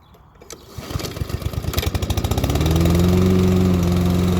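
A Briggs & Stratton overhead-valve engine on a Saber Edge lawnmower sputters and pops into life, its rapid firing pulses smoothing into a steady, loud, close running drone.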